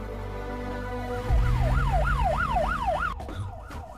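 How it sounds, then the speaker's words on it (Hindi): A police siren wails up and down in quick cycles over a deep engine rumble, loud and close, then cuts off abruptly. "ये तो पुलिस का सायरन है।"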